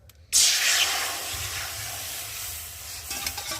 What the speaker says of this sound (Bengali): কড়ার মধ্যে আগে জল দেব